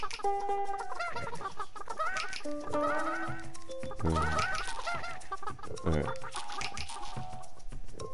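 Cartoonish chicken clucks and squawks from a video game character, repeated in bursts over a steady musical game soundtrack for several seconds, with no talking.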